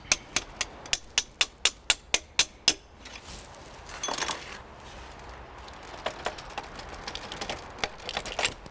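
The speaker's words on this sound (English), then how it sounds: "We may need to use a hammer and possibly a pin punch to get these bolts started coming out." A hammer strikes a pin punch while driving out engine hanger bolts on a Honda CX500 motorcycle, giving a quick series of about nine sharp metallic taps, followed by softer scattered knocks and clinks.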